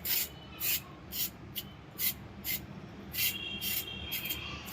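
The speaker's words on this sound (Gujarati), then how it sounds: "આવી રીતે આપણે છીણી નાખવાની એટલે જે ગાજરનો ઉપરનો ભાગ હોય એ નીકળી જાય" Fresh carrots being grated by hand for a carrot and chilli pickle, with regular rasping strokes in a steady rhythm, close and fairly loud, with no talking.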